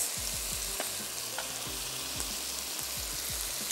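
Chopped onions going into hot oil in a pan, a constant dense sizzle filling the clip with faint low clatter underneath, close and fairly quiet, no talk.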